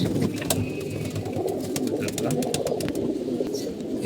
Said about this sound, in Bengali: এদিকে দুটো কবুতর দেখতে পাচ্ছি